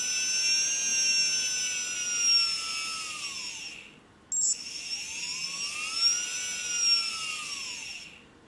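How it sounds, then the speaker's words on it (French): A brushless motor driven by a KingMax 8008 servo tester spins up to a high, whining pitch, cuts out briefly, then winds back up, loud and close. "le moteur commence à tourner."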